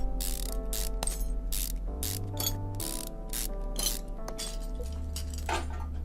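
Ratchet wrench backing out screws on a brake servo and ABS module in Car Mechanic Simulator 2015, rapid clicking bursts repeating in quick runs over a steady tonal game music bed.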